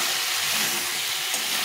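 Spice paste for a katla fish curry being stir-fried in a pan, a continuous close, bright sizzle with faint stirring underneath and no voices.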